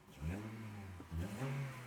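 A Honda CR-V engine with major power loss is revved up briefly twice, a mid-pitched rising engine drone close by, with no talk over it.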